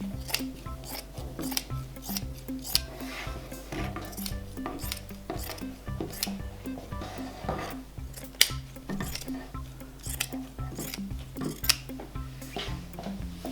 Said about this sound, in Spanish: Voy a cortar por aquí